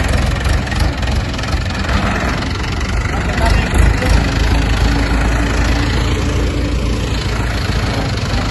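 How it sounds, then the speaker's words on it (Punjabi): A tractor with a large 18 ft TSB trolley idles steadily nearby, its low engine rumble continuous under people talking. "ਪਾਪਾ ਉਹ ਨਹੀਂ ਆ ਗਏ ਟਰੈਕਟਰ ਲੈ ਕੇ"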